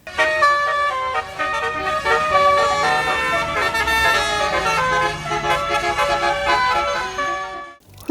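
A toy red telolet bus horn plays a loud, continuous melodic tune of sustained multi-tone horn notes that shift pitch for about eight seconds, then cut off abruptly.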